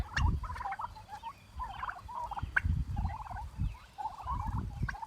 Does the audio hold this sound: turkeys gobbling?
yes